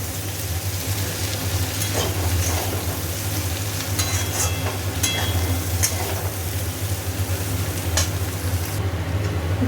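Onions and green chilies fry in a pan with a steady, close sizzle under a low hum, punctuated by scattered clicks and scrapes of stirring throughout.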